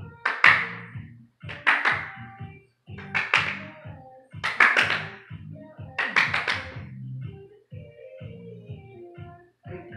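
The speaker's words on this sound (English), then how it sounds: "we're going to clap as many times as we can before we catch the ball" Hands clap in quick bursts of three or four while a sock ball is tossed and caught, each burst followed by a soft catching thump, repeated several times close by in a quiet room.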